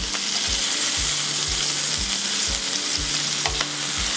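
Chicken sizzles and spits in a hot skillet with a steady, close frying hiss, and a regular tapping of the pan or utensil repeats about twice a second, with no voices.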